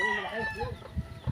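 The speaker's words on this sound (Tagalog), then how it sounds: "Daming manok ng kuya ko." Chickens and roosters on a Filipino family farm, clucking and squawking close by in short, uneven bursts, with a faint crow mixed into the busy poultry chatter.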